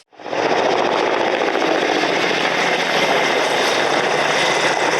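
A military helicopter roars loudly and steadily with a throbbing rotor during a Northern Fleet naval exercise, working with a small anti-submarine ship to hunt a nuclear submarine. It is close and continuous with no voices.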